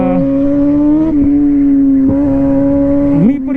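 A loud motorcycle engine holding a steady rumbling tone close by, with brief shifts in pitch as it revs and settles.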